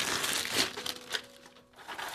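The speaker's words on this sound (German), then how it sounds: "Und innerhalb dieser Tüte knusper ich dann jetzt, breche ich die Schale auf" Dry plant seed capsules being crushed and cracked open inside a bag by hand, a dense run of crinkling and crunching with a brief lull near the end, close and fairly quiet, no voices.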